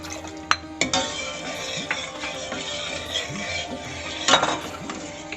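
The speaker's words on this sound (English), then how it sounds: "Keep on stirring your custard until it's nice and thick" A spoon stirs custard made with saffron-soaked milk in a pan, scraping and clinking against the metal in a steady, close rhythm with occasional sharper knocks and no talk.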